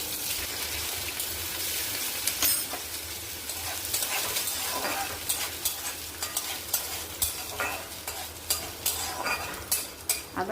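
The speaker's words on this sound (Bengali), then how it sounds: "আদাটা একটু ভাজা হয়েছে" Ginger, dried red chillies and a bay leaf frying in hot oil, a steady close sizzle with frequent stirring scrapes and clinks of a utensil against the pan, growing more clattery toward the end.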